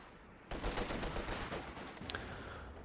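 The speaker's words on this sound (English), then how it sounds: "machine guns still continue their deadly business in the north and the south" Machine guns rattle in a Company of Heroes 2 battle, a sudden burst of rapid gunfire breaking in and continuing as a dense, moderately distant volley with one sharper crack partway through.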